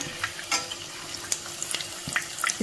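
Boiled potato donuts fry in hot oil, giving a low bed of bubbling with scattered light crackles and pops. No one speaks.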